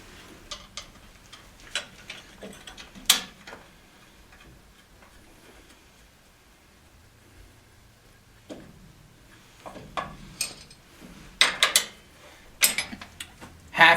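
Coupler on a boiler pump turned slowly by hand before the motor is started, giving scattered faint metallic ticks and clicks in irregular bursts with quiet gaps, close by and with no talk.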